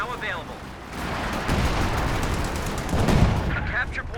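Anti-tank gun fire in the video game Company of Heroes 2, several heavy booming shots rolling one into the next amid loud battle noise, with a voice talking over the action.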